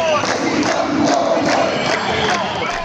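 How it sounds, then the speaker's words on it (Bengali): Students at a campus protest rally chant slogans demanding Sheikh Hasina's trial, a loud, dense crowd calling out in steady rhythmic bursts that continue without a break. "শিক্ষার্থীদের বিচার চাই খুনি হাসিনার বিচার চাই, অপরাজনীতির ঠিকানা এই ক্যাম্পাসে হবে না স্লোগান দিতে দেখা যায়"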